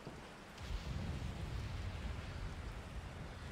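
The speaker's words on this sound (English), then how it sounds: "Oh god, it's raining." Rain in the video game Resident Evil 4 makes a soft, steady hiss that swells after a brief quiet start and then continues on its own.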